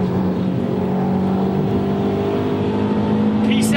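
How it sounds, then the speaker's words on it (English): A souped-up Subaru car during the 2005 Gumball 3000 rally, its engine droning steadily with a low hum and whir as it drives along, with faint voices in the background. "Back in the souped-up Subaru, it's time to crush a Porsche."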